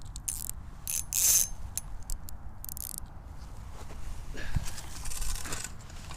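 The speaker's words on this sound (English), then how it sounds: "loosen my drag" Ice-fishing reel with a loosened drag, clicking as a crappie pulls line: bursts of fast ratcheting clicks, fairly close, over a steady outdoor background hiss.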